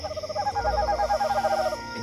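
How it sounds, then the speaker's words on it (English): An owl hooting on a summer night, a rapid series of close, clear hoots repeating in a quivering rhythm for about two seconds, alone with no voices. "An owl will generate unique hoot to express specific intentions"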